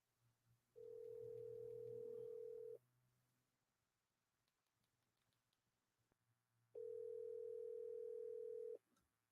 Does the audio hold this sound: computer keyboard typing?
no